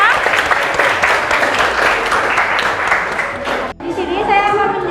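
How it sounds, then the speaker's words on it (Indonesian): Audience applause for a student group after its presentation in a classroom session on the digestive system: dense, steady clapping for several seconds that breaks off abruptly, after which a different, quieter sound takes over. "Kasih tepuk tangan untuk kelompok"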